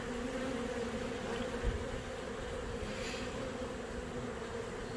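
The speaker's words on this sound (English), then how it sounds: "It's going to be a real small swarm." A small swarm of honeybees buzzes in a constant, droning hum of many wings, fairly close and steady throughout, with no one speaking.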